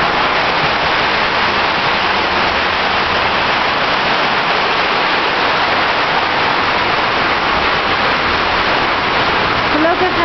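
Heavy rain pours down steadily on roof tiles and a front garden, a dense, loud, unbroken hiss of water that stays constant throughout.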